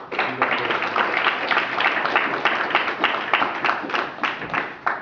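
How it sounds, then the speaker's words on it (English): Applause from an audience at a student government meeting: a sustained crowd clapping at moderate loudness with distinct individual claps, steady throughout. "a round of applause to you guys"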